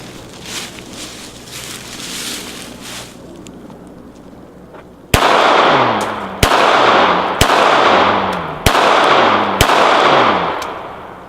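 Remington RM380 .380 pistol fired at a 2-liter bottle outdoors: six sharp, loud shots spaced about a second apart, each with a short ringing echo, following a stretch of quieter background noise.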